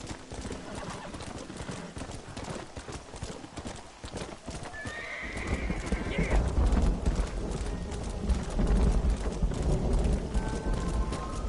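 A horse in the Red Dead Redemption video game clip-clops steadily in a fast rhythm and gives a clear whinny midway, with hoofbeats growing heavier and louder toward the end and game ambience underneath.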